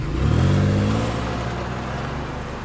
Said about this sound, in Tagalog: Pinaandar ko ang kotse ko at humarurot papunta sa Quiapo Church.